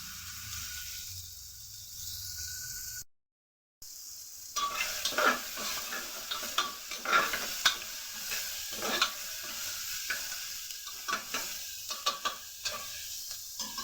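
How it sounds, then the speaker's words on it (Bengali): Chopped onion sizzles in a little hot oil in a pressure cooker for pulao, a soft steady fry broken by a brief silence and then repeated scraping stirs. "গরম হয়ে গেছে, এর মধ্যে দিয়ে দিন কুচিয়ে রাখা অর্ধেক পেঁয়াজ।"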